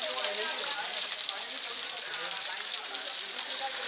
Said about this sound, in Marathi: आज 23 मे रोजी सुद्धा चांगल्यापैकी पाण्याचा इथे आपल्याला धबधबा दिसतोय